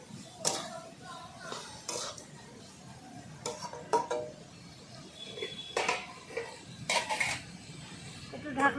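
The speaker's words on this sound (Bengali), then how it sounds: "ভালো করে একটু নাড়িয়ে চাড়িয়ে ঢেকে দেবো দু মিনিটের জন্যে" Bitter gourd and small shrimp are stirred in a pan with salt and turmeric, giving irregular metal spatula scrapes and clanks against the pan, with a faint sizzle underneath.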